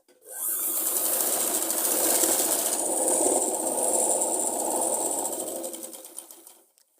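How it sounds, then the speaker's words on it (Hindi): A sewing machine double-stitches a seam on a Punjabi chakvi salwar, running as one close, continuous whirring burst for several seconds before winding down and stopping. "अब दूसरे आसन को भी हमने ऐसे ही स्टिच करना है। इसमें भी हम डबल सिलाई से इसको कंप्लीट करेंगे।"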